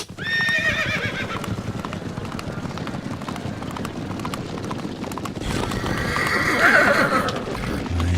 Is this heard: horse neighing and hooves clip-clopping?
yes